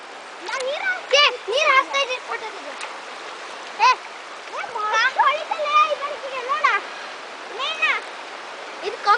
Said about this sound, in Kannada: ಇದು ನಮ್ಮ ರಾಗನಶಿನಿ ನದಿ ಹೊಳೆ